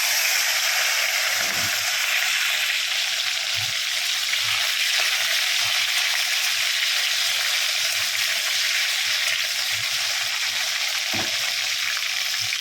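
Tomatoes going into a hot frying pan for a prawn and mixed vegetable curry, a loud continuous sizzle and hiss that stays steady throughout, with occasional faint low knocks beneath it.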